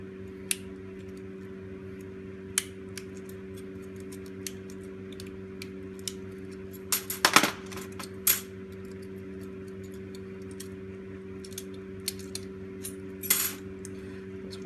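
Small wall-wart transformer cores being twisted apart while scrapping, producing scattered sharp clicks and cracks, a few clustered bursts of crunching over a steady low electrical hum, no talking.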